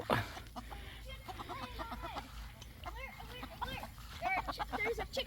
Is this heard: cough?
no